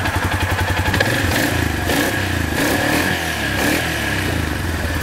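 A 2011 Arctic Cat 425 4x4 ATV engine running close by, a steady loud idle with a rough, pulsing mechanical rumble and some clattering, with no voices.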